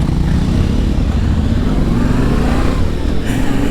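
Triumph 400 scrambler motorcycles ride off with a loud, continuous, close engine roar that holds steady throughout, with a slight lift in pitch near the end.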